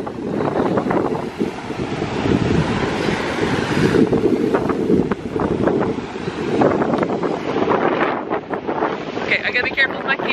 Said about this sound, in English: They're massive waves out here.